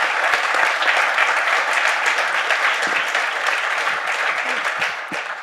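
Audience applause at the end of a panel debate on digital technology and the war in Ukraine, steady dense clapping from a large crowd that holds throughout and tapers slightly at the end.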